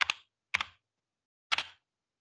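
Three separate key clacks on a computer keyboard while typing a command in Azure PowerShell, spaced unevenly and close, with silence between them.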